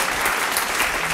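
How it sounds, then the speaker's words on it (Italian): A studio audience claps steadily for the kitchen staff on an Italian cooking show, a dense, even wash of applause throughout with no pauses. "È il momento, invito pubblico, di rifare un generoso applauso alle ragazze della cucina"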